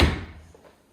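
A single solid thud of a large kitchen drawer being shut in a house, close and fairly loud, its low knock dying away quickly into a quiet room.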